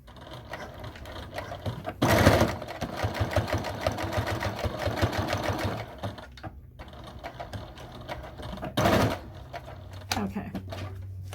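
Sewing machine stitching a fanny pack (belt bag), a rapid mechanical chatter running several seconds between louder bursts of handling noise, fairly close and moderately quiet.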